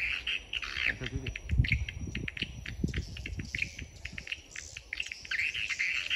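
Swiftlet lure call played through speakers in a swiftlet house, an odd repeating clicking, chirping pattern with steady insect-like trilling, broadcast continuously at moderate volume.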